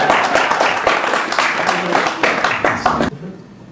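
Audience applause and clapping from a crowd at a talk, a dense burst of many hands lasting about three seconds before cutting off sharply, with voices mixed in.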